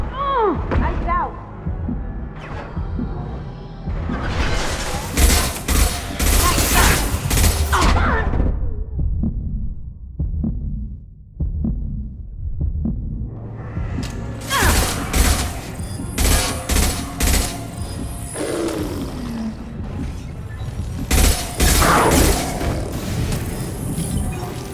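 Heavy gunfire in Mass Effect 2 on Insane difficulty, loud bursts of shots and impacts that come in waves with a quieter lull in the middle, and voices speaking between the volleys.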